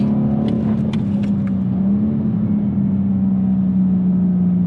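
A BMW M850i's engine roars steadily under hard acceleration, a loud close drone with a slight pitch shift, no voices.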